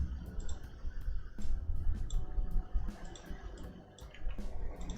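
Computer mouse clicks during SmartPLS software work, a run of short sharp clicks spread through the stretch over a muffled background rumble, with no speech.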